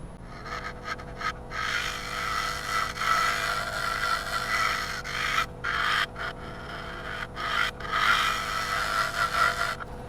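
Abrasive rubs against a maple bowl spinning on a wood lathe, a steady rasping hiss that swells and fades in long passes with brief gaps, continuous and fairly close, no voices.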